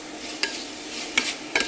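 Vegetables stir-fried in a pan with perilla oil, a soft steady sizzle broken by three scraping stirs of the spatula, close and moderately quiet, with no voices.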